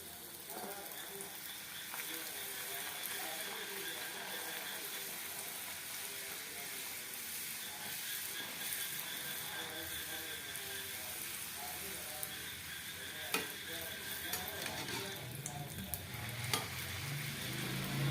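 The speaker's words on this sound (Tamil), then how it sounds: "பூரி எப்படி வறுத்து பாருங்கள்" Puri fries in hot oil at home for dinner, sizzling and crackling steadily at close range with occasional stirring clicks and faint bubbling.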